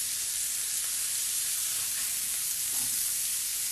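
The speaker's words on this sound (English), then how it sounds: "We're gonna flip our burger over. See, it has a nice color, a little bit of crispiness." Vegan burger patty sizzling and crackling in a hot pan as it is flipped, a steady close-up frying hiss with a small flare of spatter near the end and no talking.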